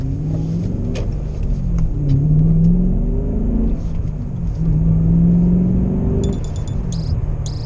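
A BMW E39 M5 with its 4.9-liter V8 pulls out slowly after a wash, a loud close engine rumble rising and falling in two gentle swells under a steady whir, with a few faint ticks.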